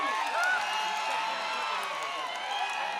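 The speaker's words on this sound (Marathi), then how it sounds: "सगळ्यांनी टाळ्या वाजून स्वागत करा सगळ्यांनी" Crowd at a kusti wrestling ground in Jinti breaks into welcoming applause and cheers, a dense, steady wash of clapping and voices that carries evenly from start to finish.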